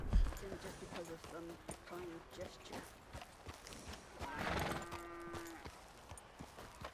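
Horse hooves trotting in the Red Dead Redemption 2 video game, a steady rhythmic clip-clop close by, heard beneath someone talking.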